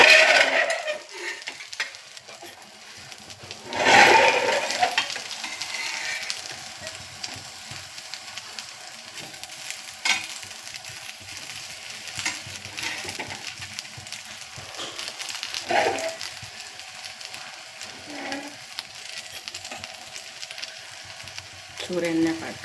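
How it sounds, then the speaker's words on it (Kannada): Pathrode pieces roast in oil in a pan, Mangalore style, with a steady close sizzle that swells in bursts of spattering and stirring, under occasional faint talk. "ಎರಡು ಸೈಡ್ಲ ಎಡ್ಡೆ ರೋಸ್ಟ್ ಆಗೋಡು"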